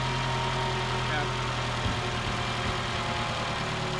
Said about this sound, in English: I think engines run louder after an oil change anyways.